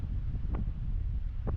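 Strong wind gusting outdoors at a campsite in the Malico area of Nueva Vizcaya, a steady low roar buffeting the microphone with a couple of brief sharper gusts, no one talking.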